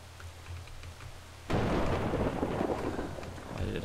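Heavy rain with rumbling thunder in the video game Brothers: A Tale of Two Sons, a dense roar that bursts in suddenly partway through after a quiet, low ambient start, then holds steady and loud.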